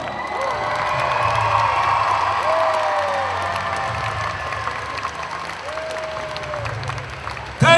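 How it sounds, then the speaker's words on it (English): Loud, sustained applause and cheering from a crowd after a Kukkiwon taekwondo demonstration team performance, with whoops and children's shouts mixed in, continuing throughout. "Let's give them another big applause."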